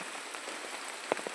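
Heavy monsoon rain pours steadily over a village, a dense hissing wash of drops drumming on surfaces close by, with a single louder knock or splash near the end.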